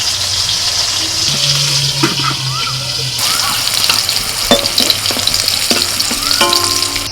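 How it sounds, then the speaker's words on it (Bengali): Whole cardamom, cinnamon, cloves and bay leaf sizzle loudly in hot oil in a home kitchen, a steady frying hiss with occasional clinks and stirring sounds close by. "তেলের মধ্যে দিয়ে দিচ্ছি এলাচ দারচিনি লবঙ্গ আর তেজপাতা"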